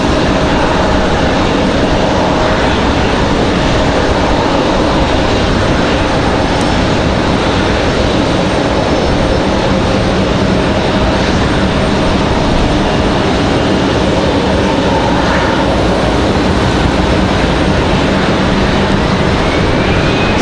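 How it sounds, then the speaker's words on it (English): A Delta Airbus A319 takes off at Raleigh-Durham airport, its jet engines giving a loud, steady, continuous roar that fills the whole stretch with no talking. "So Delta's A319 on the move."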